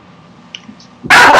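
One sudden loud bark or yelp comes from a dog close by during a tabletop role-playing game session, bursting out after near silence and lasting under half a second.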